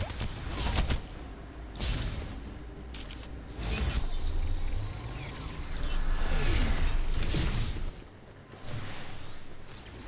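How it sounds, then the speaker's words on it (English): A weapon is speed-reloaded in the video game Farlight 84, with mechanical clicks and metallic clatter over a rumbling, whooshing game soundscape that swells and dips across several loud passages. "Speed reload coming up."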